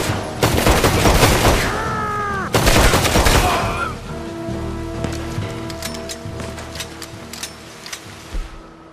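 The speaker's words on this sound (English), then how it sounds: "Still got some shooting." Gunfire in a Red Dead Redemption 2 hollow cracks out in two loud bursts of rapid shots, then fades into scattered faint distant pops against light rain-like ambience.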